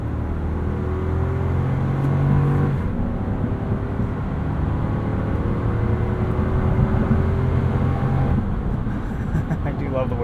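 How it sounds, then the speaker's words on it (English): A 2022 Lexus GX 460 Luxury's V8 engine with a 6-speed automatic hums and pulls steadily under acceleration, heard from inside the cabin as a continuous low drone with shifting tones. "Love the way this V8 sounds though."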